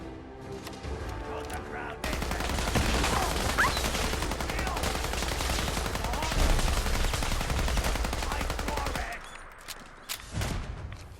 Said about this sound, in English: what is that guy firing?